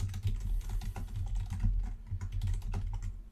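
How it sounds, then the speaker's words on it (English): Rapid, close typing on a computer keyboard, a steady stream of clicky keystrokes with no voices. "here is your typing ASMR segment of this game."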